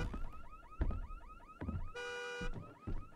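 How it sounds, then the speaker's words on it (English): A rapid electronic car alarm in the horror video game Visage on PS5, warbling in repeated rising chirps, then switching to a steady harmonic tone before the chirping resumes, loud and continuous with no talk over it. "Turn off your goddamn alarm!"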